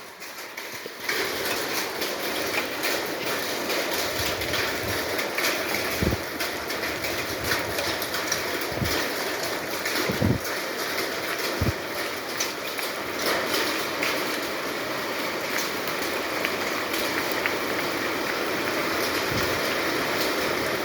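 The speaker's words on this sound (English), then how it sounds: "And now the hail stops." Hail and rain pour down during a storm in South Africa, a steady dense hiss of falling water broken by scattered sharp knocks of hailstones striking nearby, continuing for about twenty seconds without talk.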